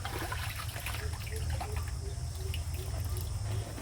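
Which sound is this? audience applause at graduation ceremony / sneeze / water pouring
water pouring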